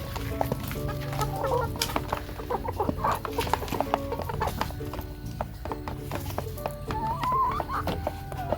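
Chickens cluck and peck while eating leaves given to them, with soft clucks and scattered pecking scattered through steady farmyard background, no talk.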